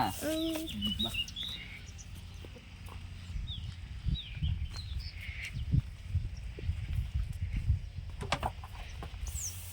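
Village chickens cluck and chirp nearby as they forage for insects, with brief high calls over low scratching and rustling noises throughout.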